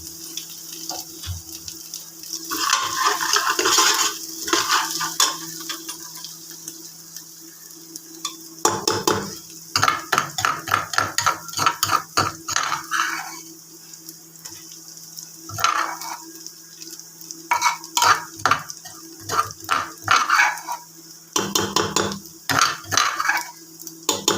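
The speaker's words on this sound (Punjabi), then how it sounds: "ਹੁਣ ਆਪਾਂ ਇਹਦੇ ਵਿੱਚ ਖੱਟੀ ਲੱਸੀ ਪਾ ਕੇ ਇਹਨੂੰ ਮਿਕਸ ਕਰਾਂਗੇ" A spoon whisks gram flour with sour buttermilk for kadhi in a bowl, making close, wet, rapid scraping and sloshing in bursts separated by short pauses.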